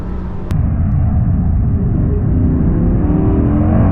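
A Porsche GT3 RS engine drones on a race track, a loud, steady low roar heard from inside the car that holds almost constant with a slight rise toward the end, after a sharp click near the start.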